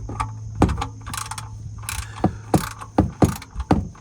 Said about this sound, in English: then we take my now oily, nice socket wrench